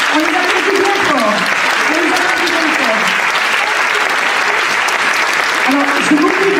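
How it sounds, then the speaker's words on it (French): An audience applauds the cast after a stage performance, sustained loud clapping filling the whole stretch while a voice sings or calls out over it. "On salue, on les applaudit bien fort."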